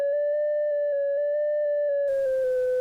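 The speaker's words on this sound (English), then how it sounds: "this is the sound of a clarinet." Synthesized clarinet-like tone sonifying a math function, a steady sustained note with gently wavering pitch and faint rhythmic pulses, joined near the end by a noisy hiss as the pitch slowly falls.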